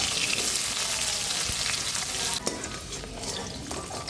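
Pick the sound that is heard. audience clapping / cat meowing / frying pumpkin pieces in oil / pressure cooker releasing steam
frying pumpkin pieces in oil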